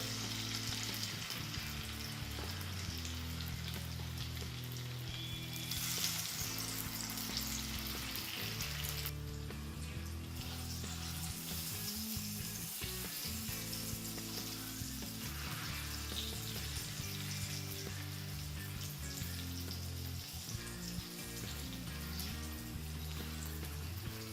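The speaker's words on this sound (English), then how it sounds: "Put the oil in, and then there goes first ball, and then another." Kofta balls for a Bengali kanchkola (green banana) kofta curry deep frying in hot oil, giving a steady, close crackling sizzle that continues evenly throughout with no talking.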